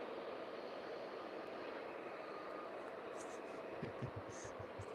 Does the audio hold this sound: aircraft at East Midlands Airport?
yes